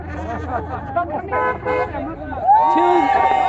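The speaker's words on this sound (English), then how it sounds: "Two more people honked as they drove by" A car horn toots over street noise and babble of voices at a political march, followed by a longer sustained honk near the end.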